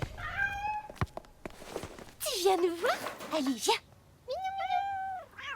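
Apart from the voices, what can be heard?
cat meowing, Tipex, Paul's cat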